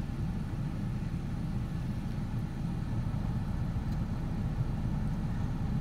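Ford Ranger engine at high idle with the AC compressor running, a steady low rumble close by with slight rises and dips in pitch as the RPM hunts.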